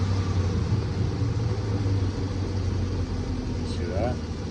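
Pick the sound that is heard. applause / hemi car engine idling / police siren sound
hemi car engine idling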